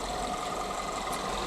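A car engine idles at operating temperature with a steady, even drone and a constant buzzing hum from the coolant pump, heard close and unbroken.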